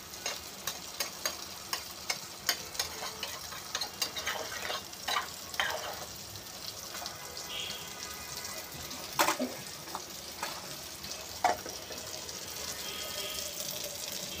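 Malabar spinach curry sizzles and fries in a pan while being stirred, a soft steady crackle broken by repeated scraping taps of the spoon, fairly quiet with no talk.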